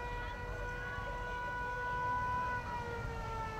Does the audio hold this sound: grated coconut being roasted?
no